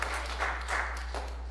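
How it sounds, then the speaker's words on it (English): A church congregation claps during a morning worship service, steady soft applause heard faintly and at a distance over a low constant hum. "We can clap for him."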